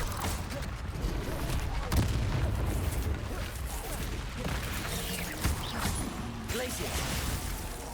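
Confringo spell blasts in Hogwarts Legacy, several sharp explosive bursts and booms amid noisy combat effects, with voices in the fight.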